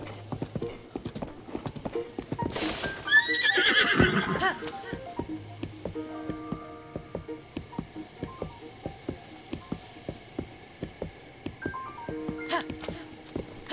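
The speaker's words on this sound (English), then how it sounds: "I'm just a dude riding a horse." A horse in the video game Zelda Breath of the Wild trots with steady rhythmic hoofbeats throughout, broken early by a loud whinny and a whooshing gust, with a soft musical tone in the background.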